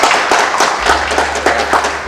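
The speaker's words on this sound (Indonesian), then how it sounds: "Boleh kasih tepuk tangan untuk Bu Ratna?" An audience at a procurement talk session applauds for a speaker named Ratna, a sustained wash of clapping from many hands at moderate loudness, with a low hum entering partway through.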